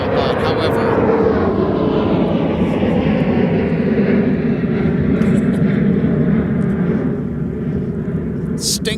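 Loud, sustained roar of an Embraer jet at MSP airport on a windy evening, a broad steady engine wash that shifts slowly over several seconds, with wind buffeting and a voice speaking over it.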